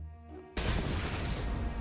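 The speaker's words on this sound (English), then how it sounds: "Or explosion." A sound-effect explosion played during a tabletop role-playing session bursts in abruptly after a quiet hum, a loud booming blast that rolls on as dense rumble to the end.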